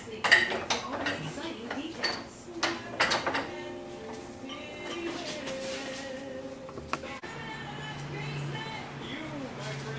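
Metal clinks and scrapes from fitting a snap ring onto the rear carrier of a TH400 automatic transmission clamped in a vise, a quick cluster of sharp taps and rattles followed by quieter handling and faint ringing.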